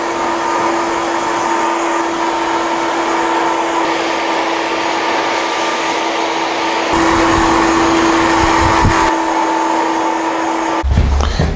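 A hair dryer on high speed and high heat blasts through an older man's long hair for finishing after a haircut, giving a loud, steady, close whine and rush of air that shifts slightly in pitch midway and near the end.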